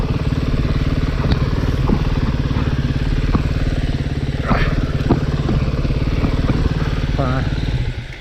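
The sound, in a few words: 2022 Sherco 300 SE dirt bike engine running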